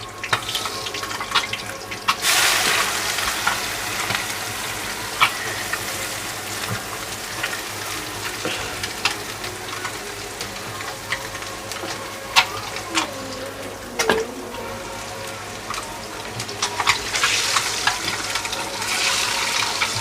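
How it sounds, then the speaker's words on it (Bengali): Eggs frying with onions in turmeric-tinted oil, a steady close sizzle and sputter running throughout with scattered pops and clinks of stirring, loud and continuous without talk. "ডিম ভাজতে আসলে কলিজা কাঁপে, খালি ফুটে।"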